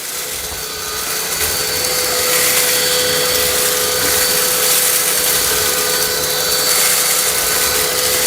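An Ultenic U18 Pro robot vacuum cleaner runs with a steady, loud whirring hiss and a high whine, rising slightly in strength after the first second and holding constant.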